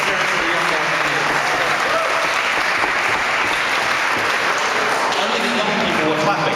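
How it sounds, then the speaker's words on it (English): An audience at a political reception applauds young campaign volunteers, a loud continuous roar of clapping from many hands that holds steady throughout. "Only the young people were clapping."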